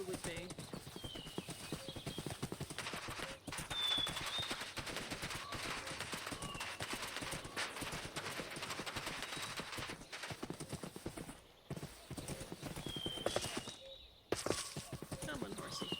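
Horse hooves clip-clop in a rapid, repetitive patter inside the Minecraft video game, faint and continuous with brief pauses, under constant talking.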